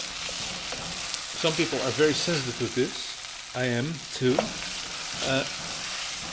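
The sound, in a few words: peppers frying in a hot pan for sambal kluwak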